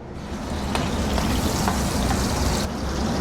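Food frying in avocado oil or beef tallow in a pan, a dense continuous sizzle and crackle at close range with no voices.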